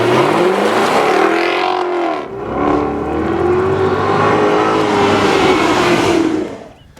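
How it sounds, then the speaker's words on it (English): A Jaguar XKR-S's supercharged 5-liter engine, Jaguar's most powerful street-car unit, accelerates hard and loud up close, the pitch climbing through a gear, briefly dipping, then rising again in a long sustained roar before tailing off. "the most powerful engine the Jaguar has ever put in a street-going car"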